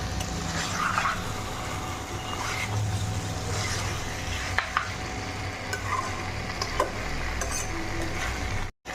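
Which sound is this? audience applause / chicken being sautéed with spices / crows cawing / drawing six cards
chicken being sautéed with spices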